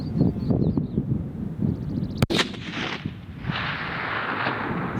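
A single sharp, loud rifle shot from a Bergara B-14 Ridge Carbon Wilderness rifle cracks outdoors midway through, with a rumbling echo trailing off over steady wind and low background noise.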